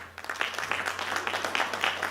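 A crowd applauds at a children's music award ceremony honouring an arts-school winner from Karabulak, a dense, even wash of clapping from many hands throughout.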